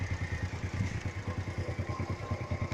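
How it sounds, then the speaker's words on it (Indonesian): A 1997 Honda Astrea Grand motorcycle engine idling, a rapid, even putter of low pulses close to the mic, steady throughout the few seconds. "Seperti inilah mesinnya."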